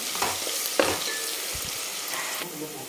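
Onion fries in oil over a full flame until golden for a mutton curry, a constant near sizzle with a few brief stirring knocks.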